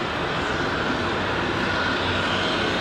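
An Aer Lingus airliner approaching Raleigh Durham International through low clouds on a cloudy evening, heard as a loud, steady broadband jet roar with no break.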